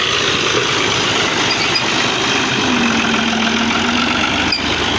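A tractor engine runs while hauling a plough across a field, a loud steady mechanical drone with a faint higher whine rising midway, constant and alone.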